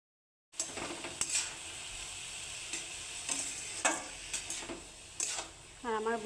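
Dry red chillies and black cumin sizzle as they hit hot oil, a steady fry hiss with sharp utensil scrapes and taps against the pan, and a voice speaking briefly near the end.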